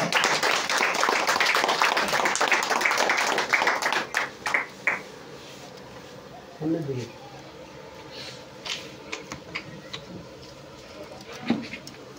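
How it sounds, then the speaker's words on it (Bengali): Applause at a Mohammedan Sporting fans club event, a dense burst of clapping for about four seconds that then breaks into a few scattered claps, with people talking afterward. "তাই এই মানুষটার জন্য একটা জোরে হাততালি হয়ে যায়।"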